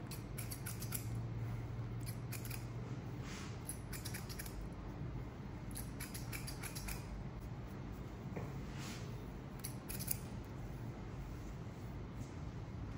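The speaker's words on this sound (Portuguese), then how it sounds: "Agora eu vou quebrar esse volume desse cabelo com a tesoura de desbaste." Thinning scissors snipping through a client's hair during a mid fade haircut, repeated quick crisp clicks in irregular bursts over a steady low hum, fairly faint and close.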